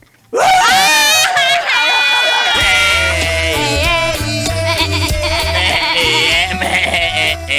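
Loud, wavering bleats ring out one after another, harsh and close, with a busy mix of voices and noise underneath.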